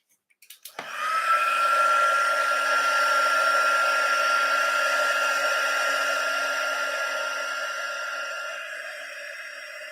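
A heat tool whines on at full blast, heat-setting embossing powder on a Stampin' Up daisy card: a steady, close, airy roar that holds for several seconds and tapers slightly near the end, with no talking.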